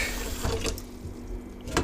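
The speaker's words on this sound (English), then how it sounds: "we're gonna put some water in it and start it boiling" Tap water running into a cooking pot, a steady close rush of pouring water throughout with a few small splashes and clunks, no voices.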